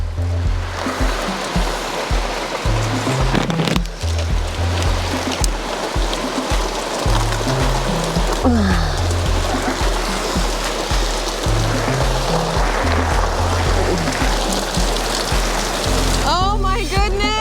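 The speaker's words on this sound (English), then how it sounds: "And it's raining." Steady rain falls outside a cabin, a dense continuous wash of water noise with occasional louder spatters and drips, while people talk intermittently over it.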